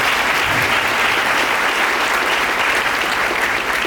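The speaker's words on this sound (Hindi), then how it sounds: "ताली बजाकर धन्यवाद दीजिए।" Steady, loud applause from an audience at a husband-and-wife meeting, a dense wash of clapping that holds evenly throughout without pause.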